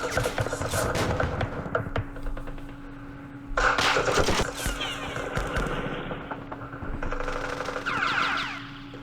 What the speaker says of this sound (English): getting laced with machine gun fire